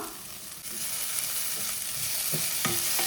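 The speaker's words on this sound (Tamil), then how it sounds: "இப்போ இது கொஞ்சம் வதங்கட்டும்" Ginger, garlic and mint sauté in oil for vegetable pulao, a steady loud sizzle close by with a few soft stirring scrapes and clicks of a spoon in the pan, and no talk.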